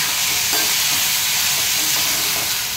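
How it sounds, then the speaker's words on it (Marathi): Boiled pasta gets stirred into an onion and tomato masala in a hot pan, a constant close frying hiss with soft scraping and stirring movements underneath, no voices. "आता आपण हा जो पास्ता बॉईल करून घेतलाय तो त्याच्यामध्ये ऍड करायचा आहे आणि छान खालून वर असं छानपैकी हे ढवळायचं आहे।"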